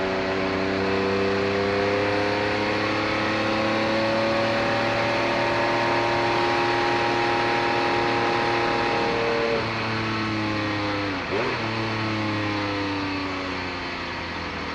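Race car engines roar steadily at close range through a vintage sports car race at Monterey, with a 1982 Pontiac Trans Am and a 1990 Porsche 962 on track. A dense, sustained drone shifts pitch as cars pass, with one sharp sweep near the end.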